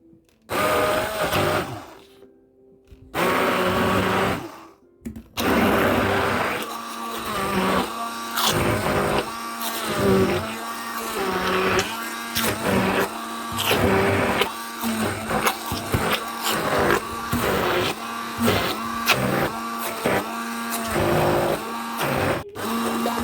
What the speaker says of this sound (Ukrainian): Я зараз буду перебивати блендером.